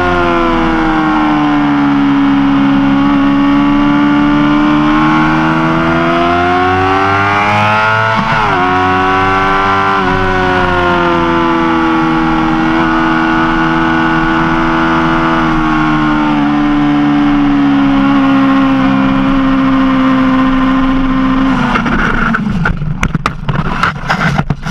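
A Yamaha R6 sportbike is ridden hard around the Brands Hatch race track. Its engine holds a loud, sustained high-rev howl with pitch dips at the gear changes, then breaks into rough, choppy noise at the end.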